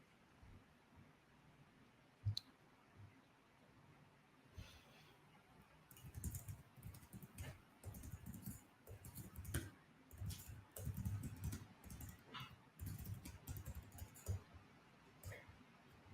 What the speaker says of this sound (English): Ellis is typing something